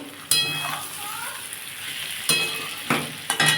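Fish curry masala sautéing in a pan, a close, continuous sizzle with a few sharp stirring scrapes.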